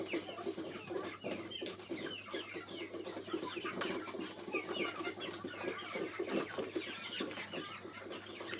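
Chickens let out to roam on a small farm cluck and chatter continuously, several birds close by with overlapping calls over a steady low hum.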